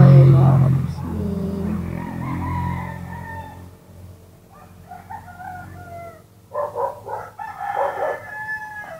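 Rooster crows loudly and close at the start, a long drawn call, followed by quieter clucking and chicken calls at home in the countryside, with a person talking in between.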